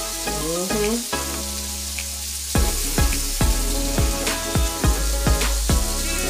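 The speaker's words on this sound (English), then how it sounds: "Keep basting them with that beautiful lemon infused garlic and herb butter, y'all." Lamb chops sizzle steadily in a hot pan while being basted with lemon garlic herb butter, with a constant loud frying hiss and repeated spoon-scoop splashes at a regular rhythm, close up.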